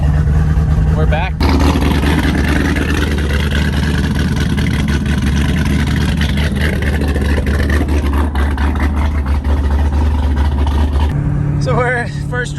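A C6 Corvette Z06 drift car is driving with its engine droning steadily and loudly from inside the car, with a brief shift in tone near the start and near the end.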